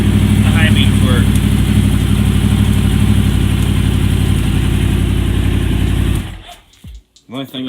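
A Yamaha R1 motorcycle engine idles nearby, a steady low throbbing rumble that stops abruptly near the end, after which someone speaks briefly.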